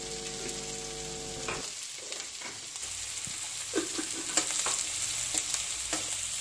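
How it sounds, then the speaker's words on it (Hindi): Chopped onion and peanuts sizzle steadily in a pan while being fried for Indori poha, with a few sharp clicks and scrapes of stirring over the constant hiss; no speech. "प्याज को अच्छी तरह से मिला लेते हैं। अब इन्हें थोड़ा सा फ्राई कर लेते हैं।"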